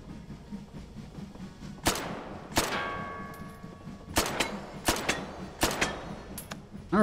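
Gunfire in the VR shooter Hot Dogs, Horseshoes & Hand Grenades: about eight sharp shots at an uneven pace, each cracking loudly with a ringing metallic tail, over a low room hum.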